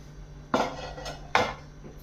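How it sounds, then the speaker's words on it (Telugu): A spoon clatters twice against a pan while stirring tempering into hotel-style tomato chutney: two short, close metallic scrapes about a second apart over quiet background. "చట్నీలో ఈ తిరగమాత వేసుకొని కలుపుకుందామండి"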